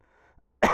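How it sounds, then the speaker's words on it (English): A quiet lull, then a single sharp, close cough bursts out at the end. "Still got a pretty bad cough going on."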